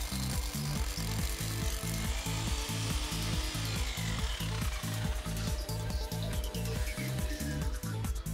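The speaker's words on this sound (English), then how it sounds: "Drill vertically and take care of the depth." A power drill grinds steadily and loudly into concrete, its motor pulsing in a fast regular rhythm as it bores a hole without pause.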